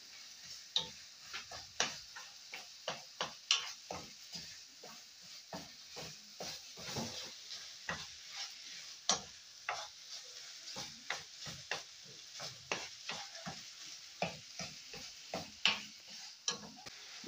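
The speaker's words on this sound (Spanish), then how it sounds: "vamos a agregar la carne. Movemos, movemos hasta que toda la carne quede sueltita." Ground beef for tacos being stirred and broken apart in a frying pan, with a soft steady sizzle and many quick scraping, ticking stirs, fairly faint and close.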